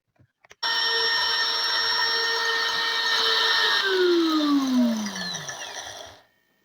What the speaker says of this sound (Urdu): اب ہم اس کو پیسیں گے۔